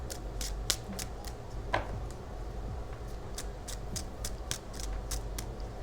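Tarot cards being shuffled by hand, heard as a quiet, close series of crisp flicks and snaps in an otherwise still room, with no talking.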